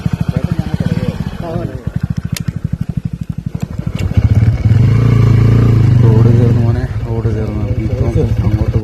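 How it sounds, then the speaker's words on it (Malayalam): A motorcycle rides toward the listener on a hilly rural road near Illikkal Kallu in Kerala. Its engine drones under continuous nearby talk and grows to a louder steady rumble in the middle of the clip. "ഒരാൾ ബൈക്കിൽ ഇങ്ങോട്ട് വരുന്നുണ്ട് കണ്ടോ"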